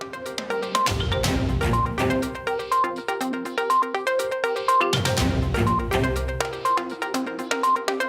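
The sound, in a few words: mobile phone ringing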